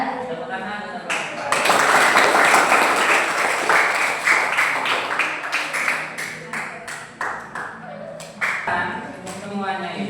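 Classroom applause for a student presenter in an Indonesian teacher-training lesson: clapping swells after a short pause and continues unevenly, with scattered sharp claps and taps fading toward the end, a voice briefly heard.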